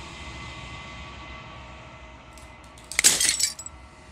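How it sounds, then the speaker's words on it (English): Glass shatters in the Slay the Princess video game, one sudden bright crash with tinkling fragments scattering for about half a second after a quiet, humming background. "As the final fragment of glass shatters, you see yourself with a newfound clarity."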